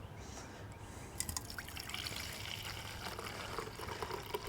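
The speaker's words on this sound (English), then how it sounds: "I'm going to pour it up high." Liquid N-Ext lawn dethatching treatment pours from a 16-ounce bottle held up high into a bucket, a steady close trickle and splash that runs continuously without talk.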